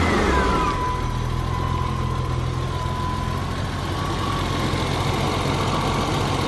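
An all-original BMW E30 convertible's M20 engine idles smoothly and quietly, a steady even hum with no talking, holding level for several seconds close by.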